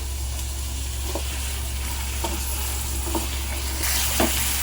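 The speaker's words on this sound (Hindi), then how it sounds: "प्याज को 2 मिनट मैंने भून दी।" Onions frying in a pan give a steady sizzle with a few faint stirring clicks, no voices, mid-distance and even in level.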